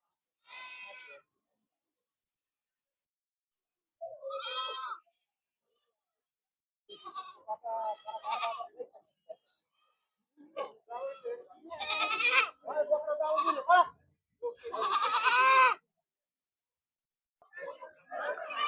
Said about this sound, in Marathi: काठेवाडी शेळ्या आहे.